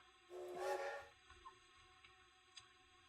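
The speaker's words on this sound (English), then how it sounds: "It's kind of a neat train whistle." A steam-style train whistle sounds once in Transport Fever 2, a single loud blast lasting under a second, followed by faint scattered game ambience.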